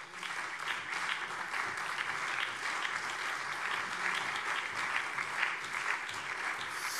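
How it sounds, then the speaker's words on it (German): Applause fills a parliamentary plenary session in the Hessian state parliament during a government statement on security. Steady, dense clapping from many hands runs throughout at an even level. "Applaus"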